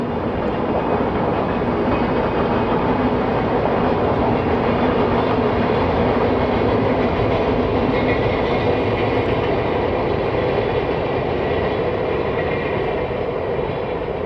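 A train rumbles past steadily and loudly, a continuous dense roar with faint rhythmic wheel clatter, no voices.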